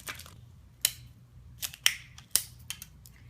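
Roll of clear tape handled while wrapping and folding rice crispy treat pops: a few sharp, quick crinkles and snaps scattered over a quiet background, close and moderately loud, with no talking.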